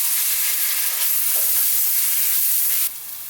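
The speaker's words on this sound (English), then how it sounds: "Now let's add 2 tablespoons of ginger, garlic and green chili paste. And saute it until the raw smell is gone" Ginger, garlic and green chili paste sautéing in a hot pan for chicken curry, a steady close sizzle and fry hiss with light stirring, the frying noise dropping a little near the end.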